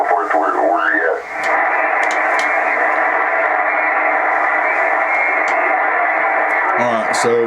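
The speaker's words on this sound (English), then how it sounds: "Let me turn the dial and see what else we can find." An amateur radio receiver on the 20 meter band is tuned by dial, giving a steady loud hiss and static with a swooping tuning whistle at the start and a garbled voice breaking through at the end.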